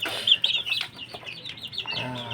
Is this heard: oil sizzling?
no